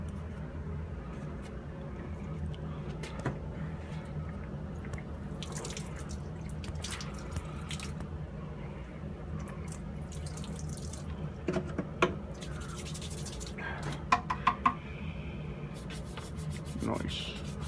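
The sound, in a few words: rinsing wood with water and a brush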